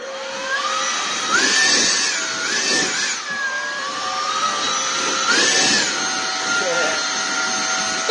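A leaf blower is used as a makeshift hair dryer, roaring loudly and close by. Its whine rises and falls in pitch several times as the airflow shifts across the hair.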